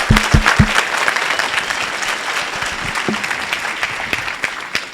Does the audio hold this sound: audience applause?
yes